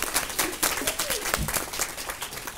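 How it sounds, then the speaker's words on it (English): Scattered clapping from a modest conference audience at a travel trade event, uneven and moderately loud, mixed with some murmured voices in the room. "Round of applause."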